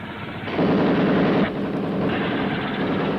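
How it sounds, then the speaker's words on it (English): Intense, sustained rumbling roar with dense rapid crackle from an army helicopter attacking in a Thunderbirds film scene, loud and close, surging then dropping slightly halfway. "This aircraft that's attacking them, this army helicopter"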